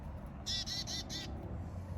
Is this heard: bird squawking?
yes